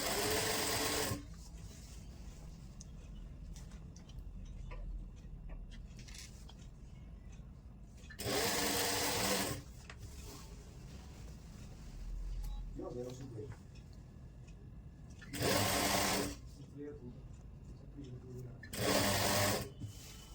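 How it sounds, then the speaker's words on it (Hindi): A sewing machine runs in several loud bursts as it stitches a buckram belt on a ready-to-wear saree with pleats, with long stretches of someone talking between the runs. "फिर हमने यहाँ सिलाई लगा के पूरी बेल्ट सील देनी है"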